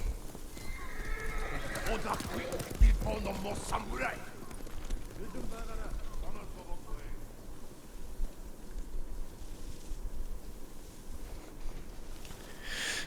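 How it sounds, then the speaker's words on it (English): Horses in Ghost of Tsushima neigh and whinny with clip-clop hooves, loudest near the start, fading under steady game ambience and a speaking voice. "Alright, and now to get the horses."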